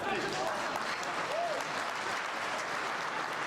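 Guests at a family celebration applaud loudly in honour of the parents, a dense, steady wash of many hands clapping that fills the whole moment without a break.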